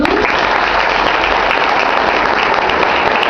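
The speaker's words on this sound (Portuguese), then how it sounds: "Vamos aplaudir a Jesus?" Church congregation applauding loudly at an Easter service, a thick unbroken wash of clapping from many hands filling the whole stretch, close and steady.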